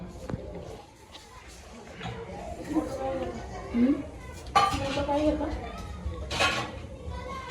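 Pots, dishes and cutlery clatter and clink in a home kitchen during momo preparation, irregular metallic knocks close by, under people and children talking.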